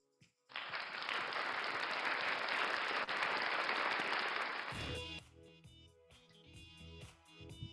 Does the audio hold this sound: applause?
yes